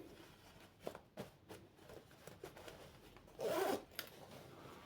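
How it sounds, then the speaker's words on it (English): A zipper being handled while sewing a kids' Ankara gown, with several short scratchy rasps followed by a longer, louder pull near the end, close and alone. "This is the zipper."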